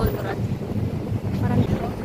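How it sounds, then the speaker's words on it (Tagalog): Heavy wind buffets the microphone with a constant low roar and rumble, loud and unbroken for the whole short stretch. "ang lakas ng hangin dito"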